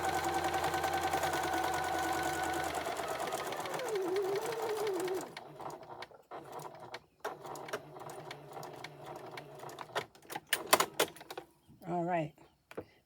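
Sewing machine back-stitching the neck seam of a memory bear, a steady close motor whir that stops partway, followed by quieter handling clicks and rustles.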